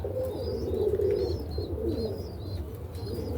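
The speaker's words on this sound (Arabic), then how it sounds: "هو الحمام الباكستاني واليمني ودول بدايه السكه" Pakistani and Yemeni pigeons coo in a loft, giving soft, continuous, overlapping low cooing close by, with faint chirps and a steady background rumble.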